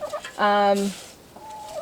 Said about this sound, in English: the chickens are all going to come be at us because we're digging